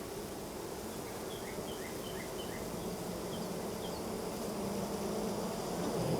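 Honeybees swarm around a beekeeper's head at the hive, making a constant droning buzz at close range that rises slightly in loudness toward the end.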